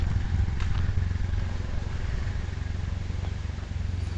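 A motorcycle engine idles steadily nearby, a constant low rumble throughout.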